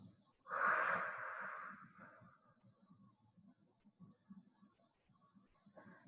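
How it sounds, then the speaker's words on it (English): A slow, paced breath: a long deep inhale, a held pause, then a soft, even exhale, close and quiet against a faint murmur of background noise. "Nice inhale in. Hold it at the top. Slow, even exhale."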